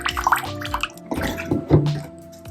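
Water trickles and drips into a container resting on a digital kitchen scale while 40 grams are measured out for a homemade moisturiser, close and soft, with small splashes in short bursts.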